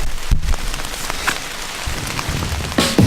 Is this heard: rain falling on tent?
yes